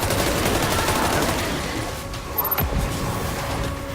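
Rapid bursts of weapon fire ring out in the sci-fi shooter Destiny 2, a dense fusillade of shots running steadily throughout, fairly loud with a few sharper reports near the end.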